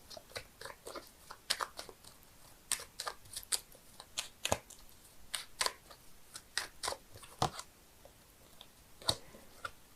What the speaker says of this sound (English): I'm shuffling the cards here, seeing if I can get a clarifying card for the 4 of Swords.